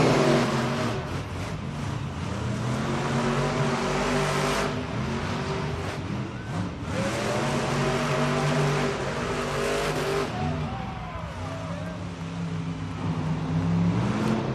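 Monster trucks at a Monster Jam event in an arena in Lincoln, Nebraska, roar continuously from the starting line as the race kicks off, with loud sustained engine revving and surging throttle throughout, crowd and arena noise beneath.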